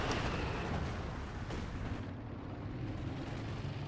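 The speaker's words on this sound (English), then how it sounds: "Getting nuked from the mortar." Mortar shells exploding in a World War II real-time strategy match, a continuous rumbling barrage of low booms and blasts layered over dense battle noise, loud and sustained with no clear gaps.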